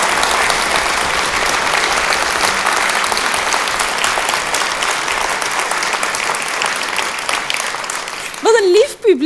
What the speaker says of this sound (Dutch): Jullie klappen zo hard mee.